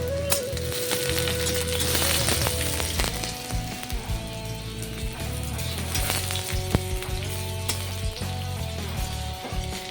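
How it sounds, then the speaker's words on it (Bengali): Dal tempering of panch phoron, onion and a dried red chili in hot oil gives a loud, continuous close sizzle and crackle, with occasional stirring knocks throughout. "তেলের মধ্যে পাঁচ পাঁচফোড়ন পেঁয়াজ একটা শুকনো লঙ্কা দিলাম ডালটাকে ফোড়ন দিয়ে দিচ্ছি"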